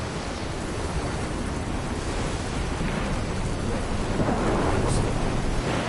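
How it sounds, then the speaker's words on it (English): A thunderstorm in the video game Death Stranding, heard as a steady, loud roar of rain and rumbling thunder that fills the whole stretch without a break. "another storm."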